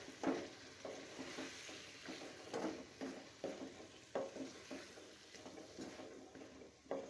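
A spoon stirs potato masala with salt and tomatoes as it fries in a pan. Soft, rhythmic scraping strokes repeat steadily about twice a second over a faint continuous sizzle, quiet and close.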